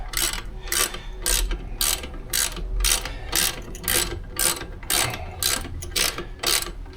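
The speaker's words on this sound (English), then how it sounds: "We're gonna tighten this one back up." A ratchet tightens an alternator bolt on a 2000 Subaru Outback in about a dozen evenly spaced bursts of rapid clicking, close and clear with no talking.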